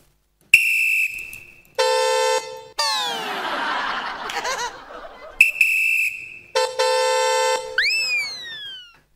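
Performers on a comedy stage show vocally imitate a truck horn with several loud, sustained honking blasts, separated by gaps and a burst of crowd noise, ending in rising whistle-like tones.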